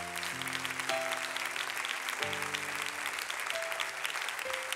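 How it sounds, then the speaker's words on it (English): Congregation clapping hands in church, a steady dense patter of many hands at moderate distance, with sustained organ or keyboard chords sounding underneath throughout. "Come on, clap your hands for them as they're coming."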